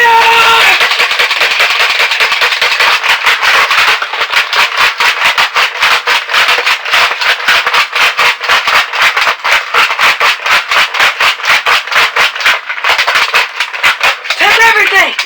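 Sustained rapid gunfire effects crackle in an even, dense staccato stream for around fifteen seconds, loud and close, with a voice briefly audible at the start.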